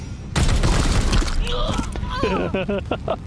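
Loud burst of rapid gunfire from shooting an enemy in the video game Warhammer 40,000: Chaos Gate, erupting after a brief silence and continuing as a crackling barrage while a voice speaks over it.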